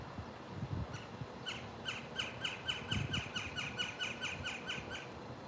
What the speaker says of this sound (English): My birds agree.